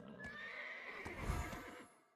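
A horse in the online game Black Desert gives a loud, drawn-out whinny, with hoof clip-clops underneath, over steady game ambience.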